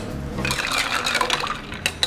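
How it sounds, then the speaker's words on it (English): Spoon stirring a cucumber thyme spritz with club soda in a glass, liquid swirling and fizzing up close with a few light clinks against the glass near the end. "Give them a little stir."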